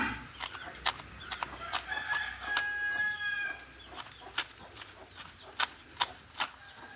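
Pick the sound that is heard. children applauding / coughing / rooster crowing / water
rooster crowing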